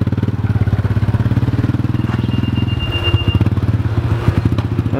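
A Raptor 250 quad's engine idles and revs steadily close by, a low rumbling chug with a brief high squeal partway through, while a child rides and learns the manual clutch.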